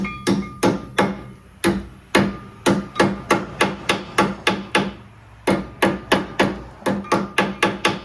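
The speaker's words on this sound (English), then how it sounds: "Might need the hammer for these." Hammer repeatedly tapping brake caliper hardware into place during brake line, caliper and hose replacement on a Dodge Dakota in a garage, sharp metallic strikes in a steady rhythm of about three per second, close and loud with brief pauses.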